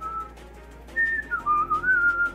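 Someone whistles a short, wandering tune up close, the pitch sliding and stepping for a second or so above low background noise.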